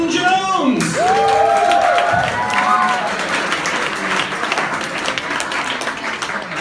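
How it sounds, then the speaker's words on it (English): Comedy club audience applauding and cheering as a comedian takes the stage, dense sustained clapping with whoops, loud and close, while someone speaks over it. "You can keep clapping."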